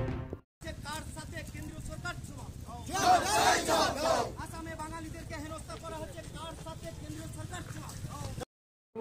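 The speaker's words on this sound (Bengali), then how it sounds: "এসআইআর এর নামে ঘুরপথে এনআরসি মানছি না মানব না স্লোগান তোলেন" A crowd of Trinamool Congress supporters outside the BDO office in Kaliachak 2 block shouts rhythmic protest slogans against the SIR and NRC, swelling into a loud collective roar midway, then falling back to chanting voices.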